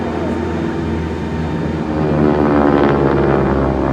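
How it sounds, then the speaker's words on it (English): A lightweight propeller airplane with big flaps, a big wing and a big engine comes in to land slowly, its steady droning engine loud and close throughout, swelling slightly toward the end with no talk. "Lands that airplane sometimes as little 25 miles an hour."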